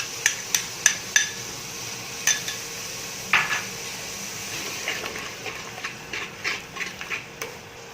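A spoon stirs spiced masala with yogurt frying in ghee in a pot, sharp metallic scrapes and taps that repeat irregularly over a low background sizzle.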